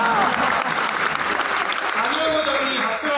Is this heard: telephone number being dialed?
no